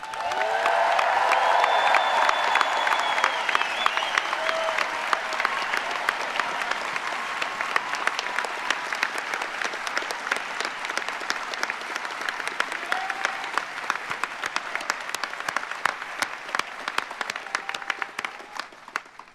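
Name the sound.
audience applause for the outgoing chancellor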